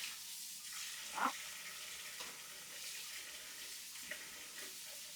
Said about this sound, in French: Alors comme ils sont surgelés, je les passe sous l'eau pour que les filets se décollent